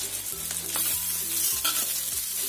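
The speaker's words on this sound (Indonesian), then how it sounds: "Kemudian ini aku akan tambahkan tomatnya." Tomatoes frying with garlic and shallots in a pan, a steady sizzle with stirring scrapes, close by and without speech.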